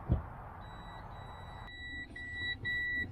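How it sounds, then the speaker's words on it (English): Jaguar X-Type parking sensor beeping while reversing toward a car parked close behind: a steady high electronic tone starts early, then faster pulsed beeps as the car nears, over a low engine idle. "There's another car parked quite close behind so that the sensors will beep so I know it's working."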